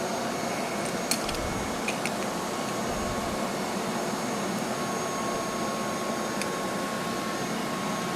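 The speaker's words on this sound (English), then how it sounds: "let me just turn the vacuum cleaner on" A vacuum cleaner runs during oiling work on the headstock of a Sidney lathe under restoration, giving a steady, even whooshing drone throughout with a few faint clicks and ticks on top.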